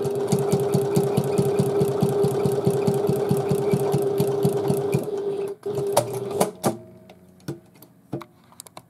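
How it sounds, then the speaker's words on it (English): A domestic sewing machine stitching the exterior of a Lola domed handbag, running in a fast, even mechanical chatter for about five seconds, then stopping, followed by a few scattered clicks and knocks, close and loud with no talking. "Just stitch the exterior together"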